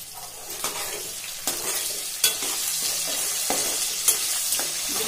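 Potatoes and peas fry in a pan with a constant loud sizzle, broken by repeated sharp clacks and scrapes of a spoon stirring them. No voices are heard.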